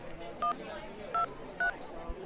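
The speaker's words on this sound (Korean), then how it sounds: "더는 기다릴 수 없어서 안심번호로 전화를 했습니다." Three short touch-tone beeps from a phone keypad being dialed to call a delivery customer, evenly spaced about 0.6 seconds apart over a low background hum, clear and close.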